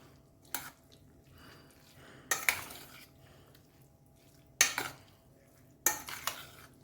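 Cooked red amaranth greens with coconut being stirred in a pressure cooker pot, four separate scraping, clattering bursts of spoon against metal spaced a few seconds apart over a quiet background.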